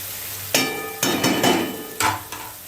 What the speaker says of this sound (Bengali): গাজরটা দিয়েও একটু নাড়িয়ে দেবো